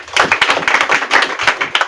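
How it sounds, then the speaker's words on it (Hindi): Close, brisk applause from an audience at a student award ceremony for a coaching institute's talent-test achievers: many hands clapping fast in an uneven burst for about two seconds. "एक बार जोरदार तालियां बजा दीजिए"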